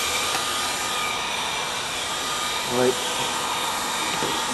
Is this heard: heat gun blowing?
yes